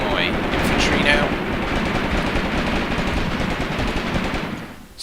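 Continuous machine gun fire in a video game battle involving infantry and KV-1 tanks, loud and steady throughout with a dense rattling texture.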